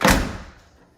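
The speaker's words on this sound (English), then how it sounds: "So now we're gonna close the door." The door of a Chevy squarebody pickup truck shuts with a single solid thud, close and fairly loud, ringing briefly before it fades.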